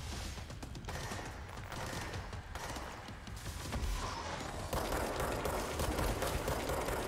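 Automatic gunfire in the video game Control rattles steadily and fairly faintly as shots strike a pillar, with mechanical clatter and a continuous dense texture throughout.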